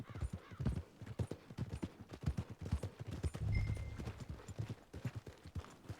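Horse hooves clip-clop at a steady walking pace in Red Dead Redemption 2 near a stable, close and fairly quiet, with rhythmic thuds, a brief snort and soft background ambience.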